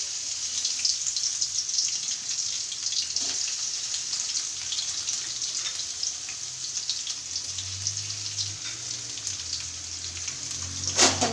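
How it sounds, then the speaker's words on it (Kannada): Garlic frying in oil over a low flame, a steady, even sizzling hiss throughout with occasional faint clicks and a low hum beneath. "ಆಯಿಲ್ ಹಾಕಿದ್ವಿ, ಅದಕ್ಕೆ ಬೆಳ್ಳುಳ್ಳಿ ಹಾಕೋಣ"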